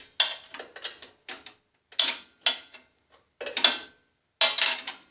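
A wrench works half-inch nuts loose on a Snapper rear-engine rider mower deck, giving short bursts of metallic ratcheting clicks in irregular groups separated by brief pauses, close and fairly quiet.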